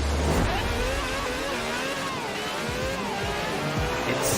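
A Quartz Regalia in Forza Horizon 4 runs around a track, its engine droning steadily and loudly with rising and falling revs through gear changes.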